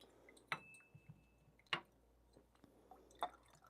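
Espresso leaking and dripping from a Strad manual lever machine fitted with a blind basket, three sharp, faint drips spaced apart over a quiet background.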